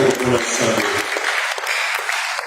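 A church congregation applauds the Lord during a service, a dense, steady wash of clapping that continues throughout, with voices mixed in.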